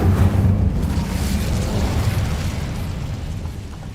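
Incendio fire spell cast in Hogwarts Legacy: a loud, close whooshing burst of flame that roars at once and then trails off into a rumbling, crackling blaze.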